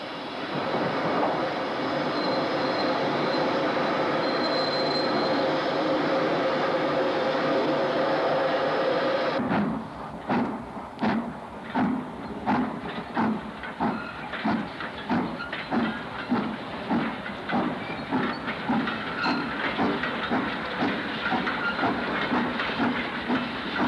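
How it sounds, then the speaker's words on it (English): Steam locomotive 48247 heads east into a 434-yard railway tunnel en route to Burnley. A loud, steady steam hiss gives way to a long run of rhythmic chuffing beats. "48247 heads east into the 434-yard tunnel en route to Burnley."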